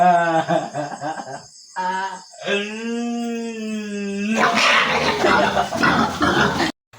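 A pig squeals loudly in a run of harsh, tonal cries while being loaded, followed by a burst of noisy scuffling and commotion.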